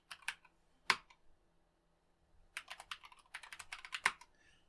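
Short bursts of keystrokes as a terminal command is typed on a computer keyboard, a few isolated clicks then a quicker flurry of taps, close and fairly quiet with no talking.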